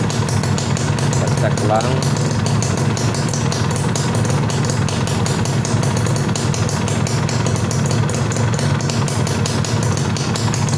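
A Yamaha F1ZR two-stroke motorcycle engine runs loud and close at raised revs with a continuous buzzing drone, while someone speaks over it.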